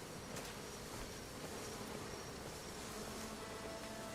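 Dense, steady swarm of bees droning around beehives in a game world, a continuous close buzz with no breaks and no talking.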